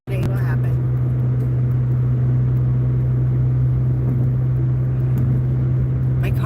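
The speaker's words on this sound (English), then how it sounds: "My car gets so loud on the expressway" A car drives loudly along an expressway, its steady low road rumble and engine drone filling the interior throughout, with a voice talking over it.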